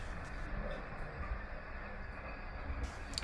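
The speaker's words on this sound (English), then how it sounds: "I love these new subway trains." A new Glasgow subway train runs steadily, a continuous close rumble of wheels and motors filling the carriage with no pauses and no voices.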